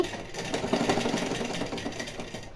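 A sewing machine runs steadily, stitching a puff sleeve on a garment, its rapid needle chatter loud and close with a rhythmic mechanical clatter throughout.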